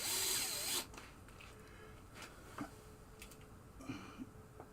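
A power drill drives screws back into a Gottlieb Hit The Deck pinball machine during a teardown: one loud, close whirring burst at the start, then a few faint clicks and taps of handling.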